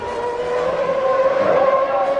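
A 1993 Formula One Ferrari, driven by Berger, surges past at racing speed with a loud, steady high-pitched engine scream that holds and swells slightly throughout.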